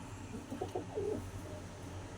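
A racing pigeon coos softly, a few short low throaty notes rising into a longer rolling coo, close by over a quiet background hum.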